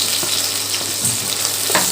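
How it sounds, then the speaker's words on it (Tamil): Ripe tomatoes frying in oil while cooking a village-style goat leg curry, a loud continuous sizzle close by with a few scraping stirs. "தக்காளி நல்லா ஃப்ரை ஆகட்டும்."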